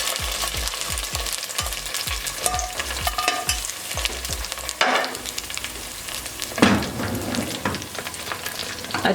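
Sarson ka saag, mustard greens cooked with golden-browned garlic and ginger, is stirred and mixed in a hot pan. Rhythmic scraping strokes run over a steady sizzle, then give way to softer, looser mixing.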